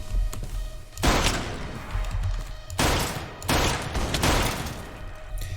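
Rapid bursts of gunfire-like shots from a skeleton hitting the player in the video game Manufactio come in loud, dense volleys, three separate barrages with short gaps between them.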